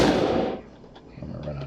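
Gunfire from a zombie video game prototype: a burst of loud blasts at the start decays into quieter scattered pops and clicks over under two seconds.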